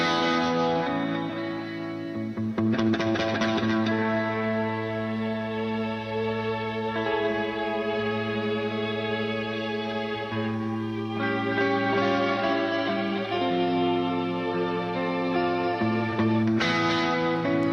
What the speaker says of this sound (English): Can you hear that distortion